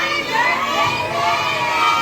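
Children at a birthday party shouting together in a loud, sustained cheer that fills the whole moment, with no other sounds standing out.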